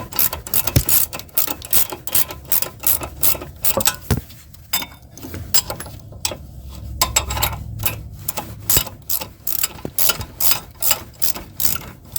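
A hand ratchet loosens a brake caliper bracket bolt on a Chevy Equinox, giving close, crisp clicking strokes in irregular bursts with short pauses between.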